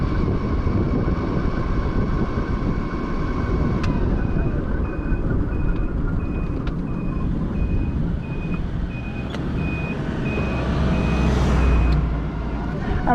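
A vehicle's turn indicator beeps in a steady, evenly spaced series of short tones over a continuous rumble of engine and road noise.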